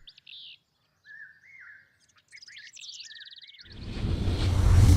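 Several birds chirp and tweet in a rapid, overlapping series of short calls, a flock heard close and clear before a rising whoosh of wind-like noise swells and covers the end.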